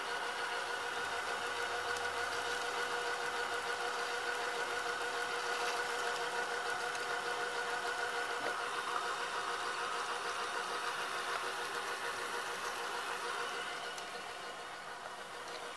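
A VCR mechanism runs with a VHS tape loaded, giving a steady, continuous motor hum and whir with a constant tonal drone, close and unbroken, easing slightly near the end.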